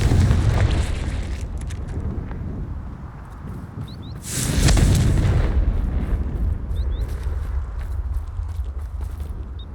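A Confringo fire spell explodes in Hogwarts Legacy gameplay: a loud, close burst of rumbling noise that swells around the middle, over a continuous dense layer of game ambience and low rumble.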